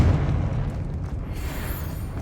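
A Confringo blasting spell explodes in the Hogwarts Legacy video game, a dense, booming burst that fills the whole moment and rumbles on loudly without letting up.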